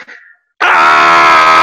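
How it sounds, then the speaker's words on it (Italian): A man lets out one loud, sustained scream after a request for a climbing yell, starting abruptly following a short quiet pause and holding steady at full strength to the end. "Dai, facci sentire un urlo."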